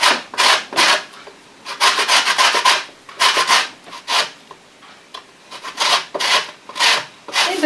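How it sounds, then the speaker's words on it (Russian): Lemon zest being grated on a fine grater for an Easter paska bread: repeated rapid rasping scrapes in bursts of strokes, close and fairly loud, with no voices. "Желательно на мелкой терке, потому что когда она крупная, крупные кусочки попадаются."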